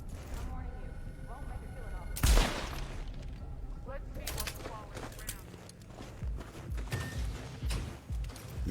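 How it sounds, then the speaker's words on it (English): Gunfire in Cyberpunk 2077 aimed at a security camera: a sharp, loud shot cracks out against a busy game soundscape, followed by scattered lighter impacts and clatter. "So I'm going to shoot the security camera."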